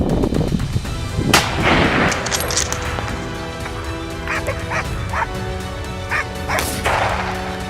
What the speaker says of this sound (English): One clean shot ended the standoff.